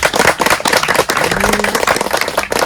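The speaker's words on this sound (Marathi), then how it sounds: "एकदा जोरदार टाळ्या झाल्या पाहिजे" An audience at a talk on the historic forts and temples of Palghar district gives a vigorous round of clapping, many hands slapping in a dense, loud burst that carries on throughout, with a brief voice over it.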